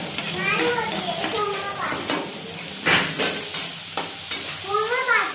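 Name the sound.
chillies added to hot pan sizzling while cooking poha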